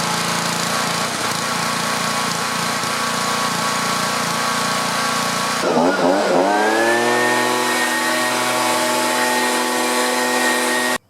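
A small engine that sat in storage with old gas in its carburetor runs loudly nearby, a steady rough drone that then revs up and settles into a higher, smoother idle.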